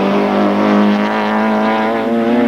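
A touring car races at Kyalami in the 1993 South African Super Touring final, its engine a loud, close, sustained high-revving drone that holds steady for the whole moment.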